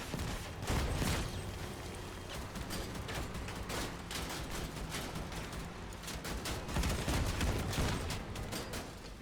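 Weapons fire in the game Assault Force Bravo, a continuous rattle of overlapping shots and distant bursts forming a dense, fairly quiet battle din throughout.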